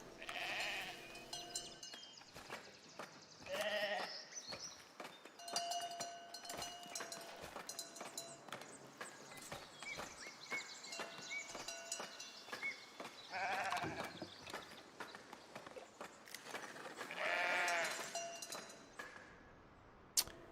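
Sheep bleat repeatedly in the medieval city-building game Foundation, quavering calls rising at intervals over a steady bed of game ambience and faint music, some close and loud, others softer.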